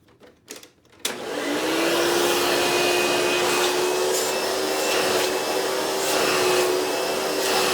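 A Hoover Futura Dimension U5213-930 upright vacuum runs in tool mode with a steady, loud motor whine and airy rush that starts abruptly after a few soft clicks and holds alone throughout.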